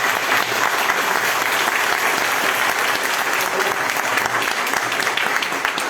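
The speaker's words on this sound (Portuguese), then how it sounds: "uma salva de palmas para o nosso aniversariante" An audience claps for a birthday person in a dense, continuous round of applause that holds steady and loud throughout, with faint voices mixed in.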